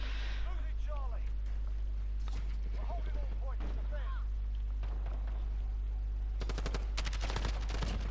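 Kilo 141 assault rifle fire in Call of Duty Modern Warfare, rapid bursts of gunshots landing a double kill, with a sustained fast burst near the end, heard under a voice talking.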